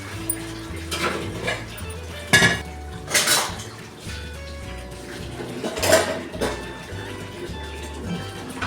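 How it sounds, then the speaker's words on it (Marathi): Metal utensils clink and scrape against a bowl and plate while spice masala is stuffed into okra for a dhaba-style bhindi masala, with sharp intermittent clatters between quieter scraping, close and alone. "हा मसाला आपण आता भेंडीत भरणार आहोत."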